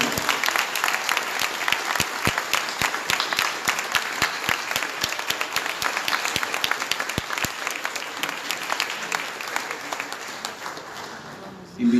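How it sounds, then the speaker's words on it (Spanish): An audience at a conference applauds for a speaker, a dense, steady round of clapping from a large crowd filling the room and slowly thinning toward the end, with no voices over it. "Por favor, un nuevo aplauso aquí para Johnny."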